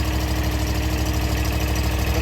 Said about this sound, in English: Our mower engine is idling perfectly fine